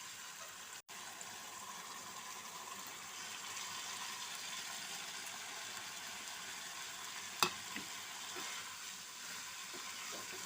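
Fish pieces go into hot oil for a fish curry, giving a steady, soft frying hiss throughout with a single brief clatter partway through and no talking.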